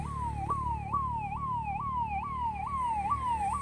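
An ambulance siren on the road, heard from a truck hauling a rice load. The siren repeats a fast, loud rising-and-falling yelp cycle over steady engine and road rumble.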